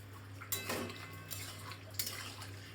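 Eggplant pieces are dropped into a simmering Parshe fish curry in a pot, giving a few soft clatters and splashes against the vessel over a steady low hum, with no talking.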